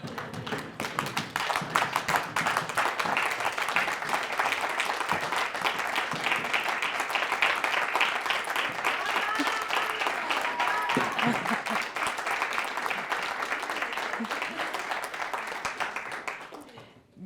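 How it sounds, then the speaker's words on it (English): A standing audience applauds Annabelle Martin with long, steady clapping from many hands that holds evenly for over fifteen seconds before tapering off at the end. "I would like us all to stand up and applause for Annabelle Martin"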